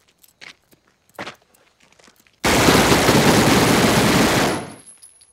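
A sustained burst of rapid automatic gunfire in a TV drama scene, loud and continuous for about two seconds after a few faint footsteps and small sounds, then cutting off.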